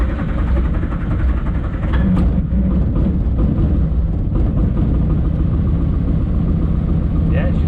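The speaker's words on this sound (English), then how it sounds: "Yeah, she started. Not great, but she started." A Morris Minor engine runs roughly while misfiring, giving a loud, continuous low rumble close by with uneven pulses throughout.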